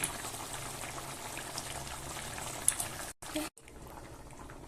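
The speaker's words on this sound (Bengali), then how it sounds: "ঝোল ফুটে গেছে" Snail (gugli) curry simmers in a pot, giving a soft, steady bubbling hiss with faint kitchen clatter, cut by a brief gap near the end before the low bubbling resumes.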